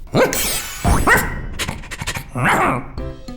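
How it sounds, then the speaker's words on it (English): A small green cartoon dog barks, yips and pants in a children's animated bedtime story, loud and close in several quick bursts with growly, playful tones. "He clicks his fingers and turns it into a small green dog."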